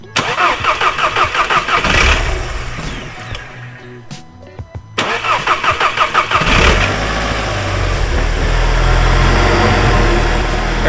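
Car with a 2.0 FSI EA113 engine cranking in two attempts, a rhythmic starter chug that stops and resumes before the engine catches and settles into a loud, steady idle up close.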